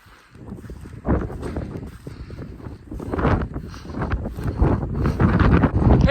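Strong wind buffets a microphone on exposed Lancashire fells, heard as a continuous, rumbling roar that swells in gusts and grows heavier toward the end, with no voices.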